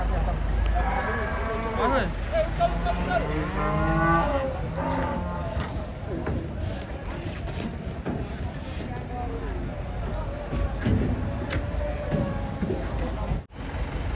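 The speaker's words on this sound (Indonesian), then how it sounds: "Kedatangan sapi unik yang ditunggu-tunggu nih." Cattle lowing as unusually coloured giant cows come down off a truck, the moos drawn out and fairly close amid a steady rumble of background noise, with people talking over them.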